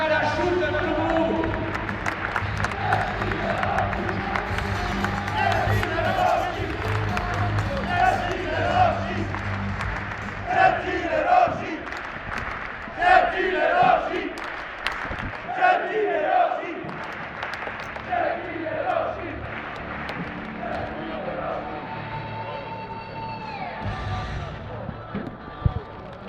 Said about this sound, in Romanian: Aplauze pentru Clubul Oamenilor de Afaceri care ajută Clubul U.